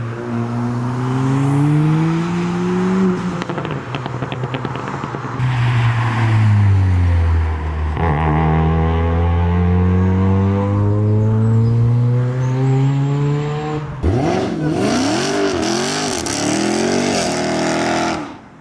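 Loud turbocharged modified car accelerating away from a spring action day at Castle Combe circuit, engine pitch climbing through several gear changes before another car screams past up close, no talk.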